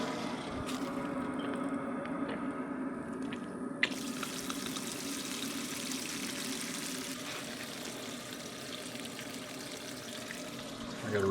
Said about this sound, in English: We'll turn this faucet on here. Get rid of some of our pressure.